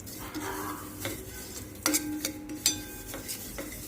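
Melon seeds and garden cress seeds roasting in a little ghee, stirred with a spoon that scrapes and taps the pan in irregular strokes, with a faint soft sizzle underneath.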